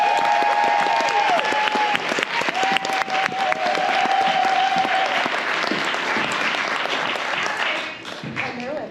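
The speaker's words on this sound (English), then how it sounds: "Would you put your hands together and snap your fingers for Julian Scobie" Theatre audience at a spoken-word event applauding for the host, dense sustained clapping filling the room for several seconds before thinning out, with faint voices and a tonal hum underneath.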